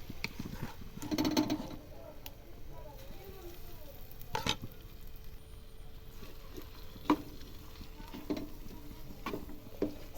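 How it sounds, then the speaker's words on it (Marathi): Grated raw mango sautéed in ghee with cloves and cinnamon sizzles and crackles steadily in the pan, with intermittent scraping stirs and clinks of the spoon close by. "साधारण 5 मिनिटं चांगला तुपामध्ये आपला किसलेली कैरी परतून घ्यायची"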